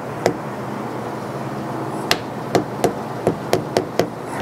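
A metal workpiece tapped down onto machinist's parallels with a hammer, about eight sharp, close knocks spaced irregularly over a steady background hum.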